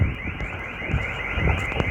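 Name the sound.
car alarm set off by monkeys in a parking lot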